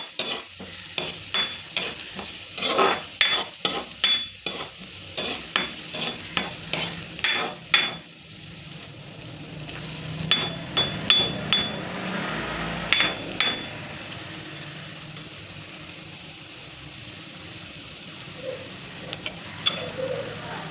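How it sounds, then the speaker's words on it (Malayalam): Red chilli powder fries in a pan for a mango pulissery, stirred with sharp rhythmic scrapes and taps of a spoon against the metal, close and clear; the strokes thin out later, leaving a softer sizzle. "നമുക്ക് കൊല്ലമുളക് ഇടാം കേട്ടോ. നന്നായി ഇളക്കി കൊടുക്കുക."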